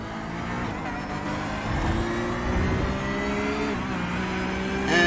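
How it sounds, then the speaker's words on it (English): A GT3 race car engine roars at full throttle in a racing game at Rudskogen, a loud, steady drone with rising pitch as it accelerates and a brief upshift near the end. "And back to full throttle on the straightaways."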